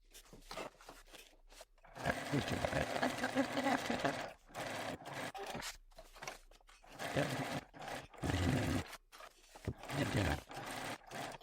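Sewing machine basting the raw edges of fabric bag panels for a bucket bag, running in several close, steady bursts separated by short pauses.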